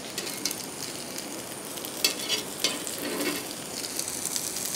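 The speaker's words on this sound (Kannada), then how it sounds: "ತೆಂಗಿನ ಎಣ್ಣೆ ಬೆಸ್ಟ್ ಇದಕ್ಕೆ. ಎರಡು ಬದಿ ಕೂಡ ರೋಸ್ಟ್ ಮಾಡಿಕೊಳ್ಳುವ." Udupi-style pathrode fries in coconut oil on a hot tawa, a continuous bright crackling sizzle with a few louder pops, close and unbroken by speech.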